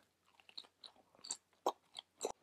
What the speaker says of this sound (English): the dumpling skin, it's really crispy, loving it